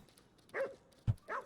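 A puppy in the video game Ghostwire: Tokyo gives a few short, close yips and barks, with a brief thump between them.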